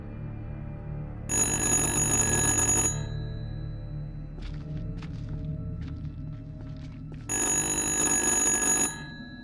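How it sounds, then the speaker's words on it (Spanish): A telephone rings in the horror video game Little Hope in two long, loud bursts of bright ringing. Soft footsteps and light clatter fill the quieter gap between them, and no one speaks. "¿Qué es eso? ¿El teléfono?"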